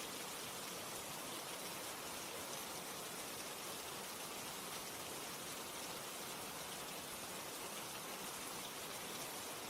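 Steady rain falling, a dense, even wash of drops with no pauses, soft and continuous throughout with no voices.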